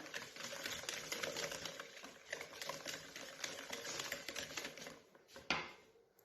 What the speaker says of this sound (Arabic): فضلت اني نديرها المضرب اليدوي، نضرب مليح بهذه الطريقه